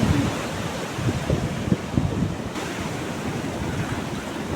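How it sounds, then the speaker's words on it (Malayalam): Sea waves roll onto a village shoreline on a fairly calm day, a soft steady wash with gentle surges and some wind buffeting the microphone, no voices present. "നല്ല തിരയാണ് കേട്ടോ."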